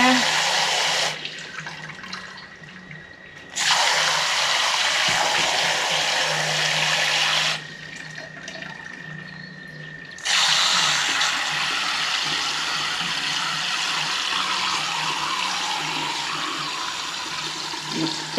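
Tap water gushes steadily into a container, a loud broadband rush that stops briefly twice and then resumes, running on until the container is filling up, with no talk over it.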